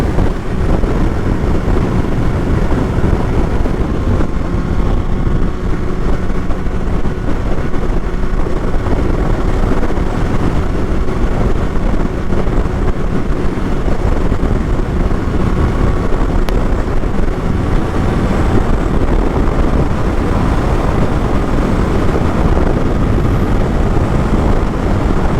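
A Kawasaki Z800 motorcycle rides smoothly at speed through cool weather, with a loud, unbroken roar of engine and wind rush that holds constant throughout.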